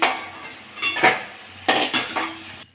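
Fried potatoes are scooped out of a pan of oil while cooking ghugni, with a few distinct metal spatula clinks and scrapes against the pan in short bursts, then quiet.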